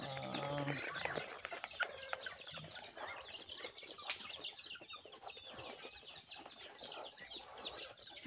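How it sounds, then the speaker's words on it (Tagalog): Chickens clucking in a farmyard in the countryside, several birds making scattered, overlapping clucks and chirps at moderate distance, fairly faint against quiet surroundings, with no one speaking. "Good morning mga pato, manok."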